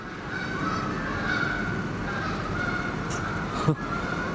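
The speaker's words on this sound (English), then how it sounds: "I can hear a load more geese coming" Distant geese honk faintly over a steady outdoor rumble near a bridge, with a brief louder knock near the end.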